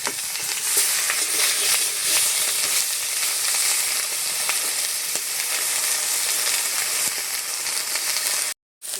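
Japanese puti fish, roe-filled pond fish, sizzle steadily in hot oil in a pan, a dense continuous crackle running close and loud for nearly the whole stretch before a brief drop to silence near the end.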